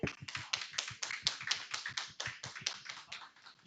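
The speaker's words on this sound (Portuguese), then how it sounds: "Vamos aplaudir os pais?" A church congregation at a Father's Day service applauds the fathers with steady, dense clapping that sounds a little muffled, as many hands strike together at once.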